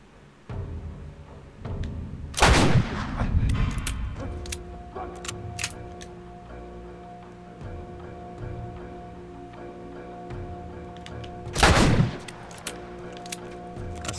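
Shotgun fire in The Last of Us Remastered: two loud, sharp blasts about nine seconds apart, with quieter game ambience and a sustained tonal drone between them.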